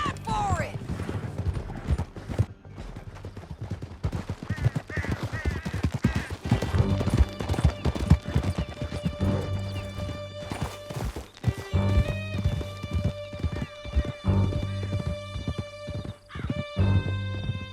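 Horses gallop hard in the video game Red Dead Redemption, with dense rapid hoofbeats and a few neighs. Louder crashes and shouted voices sound over a continuous music bed.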